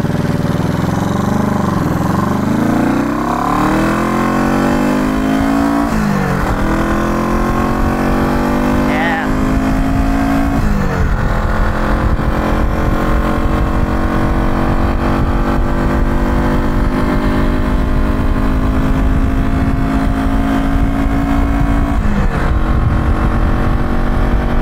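A neglected classic motorcycle engine running loud and close, revving up through rising pitch sweeps and shifting between steady throbbing idle and higher revs over about twenty-five seconds.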